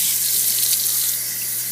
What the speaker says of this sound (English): But I'm rinsing with cold.